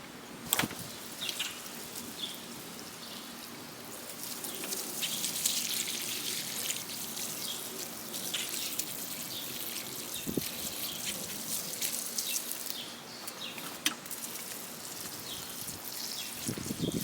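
Rainwater trickles and splashes steadily into a watering container in a summer vegetable garden, with occasional clanks and no talking.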